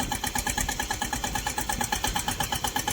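Tractor engine running in a village field, a steady rhythmic chugging hum with regular pulses, close and fairly loud, with no talk over it.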